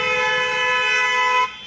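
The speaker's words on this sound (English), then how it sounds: "Stop honking, man, go." A car horn outside a car showroom blares in one long steady honk, loud and near, cutting off abruptly just before the end, with no voices over it.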